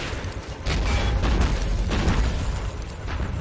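Artillery shells exploding in the WWII game Men of War: Assault Squad 2 during a battle on Saipan, with deep booms rolling one into the next in a dense, continuous barrage.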